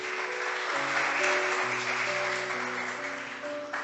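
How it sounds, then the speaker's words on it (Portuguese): A church congregation claps in a steady, dense wash of applause while sustained organ or keyboard chords play beneath it, continuing evenly throughout. "Dê uma salva de palmas por causa dessa palavra"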